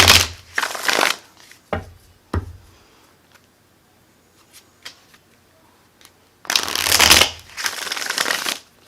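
Oracle cards are shuffled in loud riffling bursts, several at the start and a longer run near the end, with quiet gaps between them.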